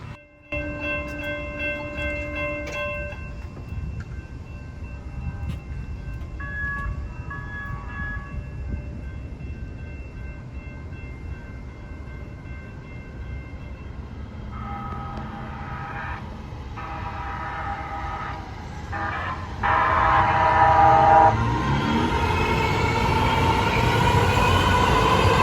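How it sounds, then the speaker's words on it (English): An LA Metro A Line extension test train rolls through a grade crossing with crossing bells dinging, a long horn blast, then rising rumble and wheel noise as the train passes close and loud. "let's go ahead and take a look at the A-Line test train that's coming through the area"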